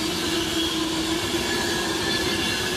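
A Class 91-hauled London Euston to Glasgow Central express runs straight through Stafford station on the main line with a loud, steady, close rumble and a faint squeal from the wheels.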